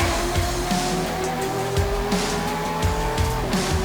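Trans Am race cars roar around the Charlotte Motor Speedway oval, engines screaming loud and close with rising and falling pitch as they pass, tires squealing throughout.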